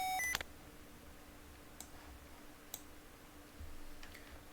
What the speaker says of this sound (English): Flipping caution and warning to acknowledge will not in fact prevent the caution and warning alarm from sounding